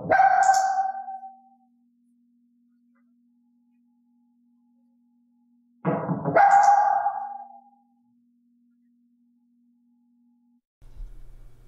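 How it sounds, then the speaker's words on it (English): A dog named Elaine gives single sharp barks during a training session, two loud close barks spaced several seconds apart, with a faint steady tone lingering between them and a soft knock near the end. "In the case of Elaine, I knocked the wall to prompt a bark, and clicked then treated for the bark."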